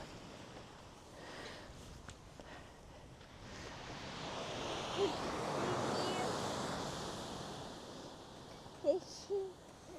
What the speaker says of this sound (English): it's a lovely sandy beach